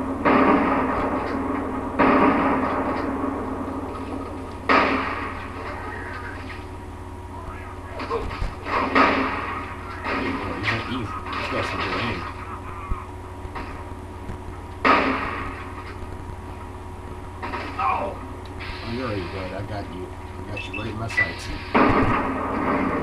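Gunfire in the video game Fallout 3 arrives as several sharp, separated shots with short reverberant tails, spaced a few seconds apart, under a low game ambience.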